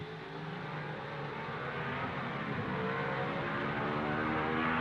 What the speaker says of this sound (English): The two Mercedes have closed right up now and proceed to give a fine demonstration of team driving, Moss not attempting to overtake Fangio.